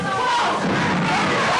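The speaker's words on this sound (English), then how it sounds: "a highly partisan crowd here cheering for Joyce Grable" Wrestling crowd at a women's match cheering for Joyce Grable, a dense, continuous roar of many voices that fills the arena.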